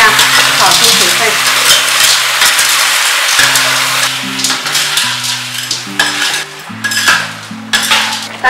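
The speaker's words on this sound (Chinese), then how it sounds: "三斤胡萝卜倒入一斤的冰糖， 开中小火， 胡萝卜不停翻炒一下，炒出水分。" Carrots with rock sugar are stirred and tossed in a sizzling wok over medium-low heat, a spatula scraping and clattering against the metal in irregular strokes over steady frying, with background music underneath.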